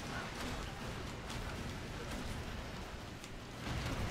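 Rain falls in the game Expendabros, a steady hissing patter of drops that stays even and close throughout, with no clear voices over it.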